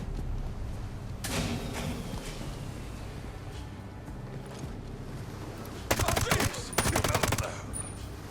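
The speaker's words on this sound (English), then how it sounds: "I'm sure the person back there heard the silenced weapon shots." Suppressed gunfire from a video game, Ghost Recon Breakpoint, comes as a few soft isolated shots early, then two dense rapid bursts of clicking shots near the end, all over a steady background hum.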